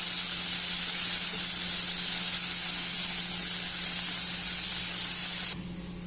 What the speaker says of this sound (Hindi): फ्लेम को आप लो रखें और इन रिंग्स को अच्छे से फ्राई करें।